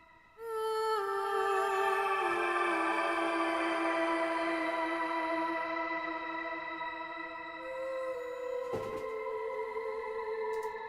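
A sustained vocal note is thickened by a shimmer effect pitched one octave up from the Heavyocity MicroFX plugin, adding an airy, wide, effected sheen, fading slightly toward the end.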